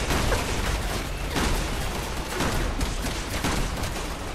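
Gunfire in the Resident Evil 6 co-op campaign on PC: a steady stream of rapid, evenly spaced shots at moderate volume, like sustained automatic fire, without speech.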